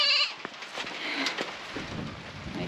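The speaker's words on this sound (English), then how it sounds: "now I've got a chicken coop full of goats" Goats, a group of bucks crowded into a chicken coop on a farm, bleat once up close at the start, then give way to scattered rustling, knocks and fainter bleats over steady rain-like background noise.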